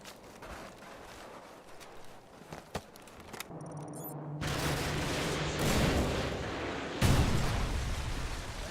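AGM missile strikes in Call of Duty MW2 land as heavy explosions, with booming blasts rising out of steady battlefield rumble and a big hit near the end.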